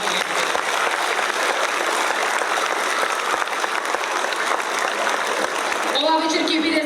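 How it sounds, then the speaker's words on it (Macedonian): Steady, dense applause fills a school anniversary celebration hall, a large audience clapping continuously, with a voice returning over the tail end. "Ве молам еден аплауз за сите наши колеги"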